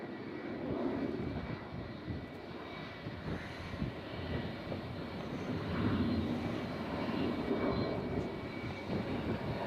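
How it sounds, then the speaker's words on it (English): A small acrobatic propeller plane flies past at Fuerteventura Airport with a steady engine drone that swells slightly and holds for the whole stretch, moderately distant over open-air background. "Tiny little thing, it almost looks like an acrobatic plane."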